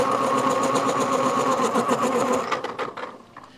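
An electric pencil sharpener grinds a pencil in one steady, close, buzzing whir lasting a few seconds, then stutters and winds down as the pencil is pulled out.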